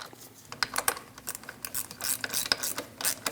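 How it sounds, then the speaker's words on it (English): A hand ratchet snugs down the bolts on a transfer case shift motor of a 5.7L V8 Dodge Durango, with rapid close clicking in uneven bursts and no talk. "Snug down the bolts."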